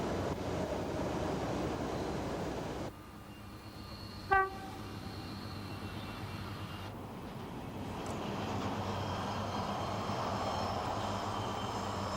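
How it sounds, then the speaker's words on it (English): A British Rail Pacer two-car rail bus, built from bus parts with a Leyland engine and Voith hydraulic transmission, rumbles along at a steady pace, its horn sounding one short toot partway through before the running noise swells again. "These two-car units were built from bus parts with a Leyland engine and Voigt hydraulic transmission."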